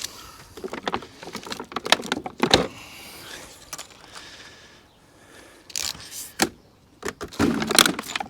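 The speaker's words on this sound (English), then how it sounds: "Set of keys." A set of keys from a newly unboxed 72-inch SGS toolbox jangles and clinks in several bright, short bursts separated by quieter handling and rustling, close to the microphone with no talking.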